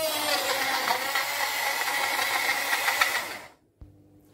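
A portable blender whirs while making bulletproof coffee, a close buzzing motor hum with a slight rattle that runs for about three seconds, then stops, followed by a brief click.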